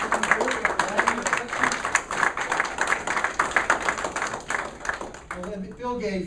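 A room full of people gives a speaker a round of applause at a real estate presentation, distinct claps beating out a quick rhythm close by, with voices starting to talk as the clapping fades at the end.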